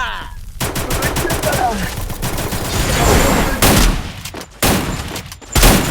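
Rapid gunfire from a first-person shooter match rattles in dense, loud bursts, with short pauses and sharp single shots toward the end.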